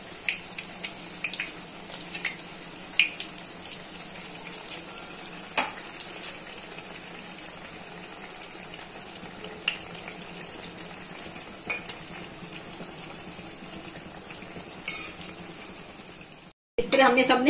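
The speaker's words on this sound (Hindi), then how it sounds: "इसी तरह हम सारे फ्राई कर लेंगे" Bread slices frying in a pan for shahi toast make a faint, steady sizzle with occasional light clinks, ending in a sudden louder burst.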